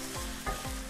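Crispy fluffy catfish is stir-fried with sugar in a little oil, with a low sizzle and a few soft scraping strokes of a spatula across the pan in quick succession.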